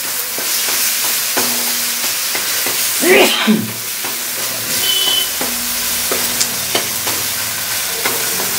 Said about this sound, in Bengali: এইখানটা মশলাটা খুব সুন্দর ফ্রাই হচ্ছে কিন্তু